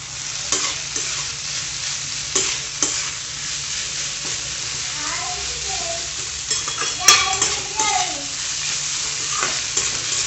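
Okra stir-frying in a pan on a high flame, a steady hiss of sizzling with occasional scraping stirs and light utensil clinks, close and continuous, with no talk.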